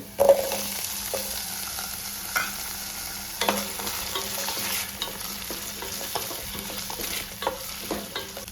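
Finely chopped onion and potatoes frying in a pan, a soft sizzle under repeated stirring scrapes and clinks of a spoon, close and fairly quiet, with no speech.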